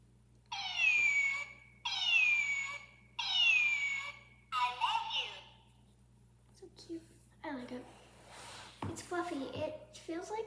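A toy kitty gives three loud, evenly spaced electronic meows in a row, followed by softer chirps and someone talking quietly close by.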